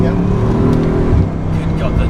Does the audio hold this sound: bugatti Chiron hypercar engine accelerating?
yes